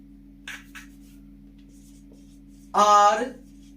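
A couple of brief scratchy strokes sound as an example sentence is written on a board, followed after a pause by a clear spoken voice.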